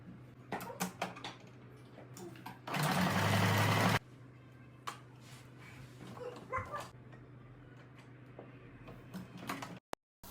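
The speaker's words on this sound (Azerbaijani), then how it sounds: "Nəhayət ki, vaxt gəldi və mən bu pərdələri tikdim, qurtardım." A sewing machine stitches curtains in one loud, steady burst lasting about a second, with quieter indoor clatter and small knocks before and after it.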